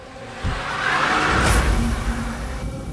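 Car pulling away in a film scene, a close engine rumble and rising whoosh that swells over about a second and then fades, with no voices.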